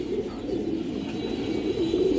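A female pigeon coos in low, rolling bursts, close and steady throughout, with no talking over it.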